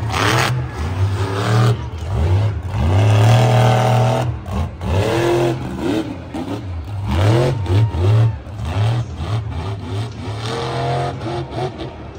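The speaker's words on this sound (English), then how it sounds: "That truck is not running right at all." The Bakugan Dragon monster truck engine runs rough in a stadium show, loud and close, revving in uneven surges with sputtering dips between bursts.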